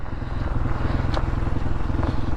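A dirt bike engine burbles close by with a rapid, pulsing rhythm as it is ridden, steady and fairly loud across the short stretch, with a brief gear-like clink in the middle.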